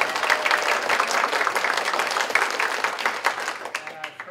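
An audience at a United Church of Christ annual meeting retreat claps for storytellers, dense applause at first that thins to scattered claps as voices rise over it.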